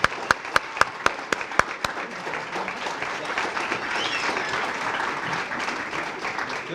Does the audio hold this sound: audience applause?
yes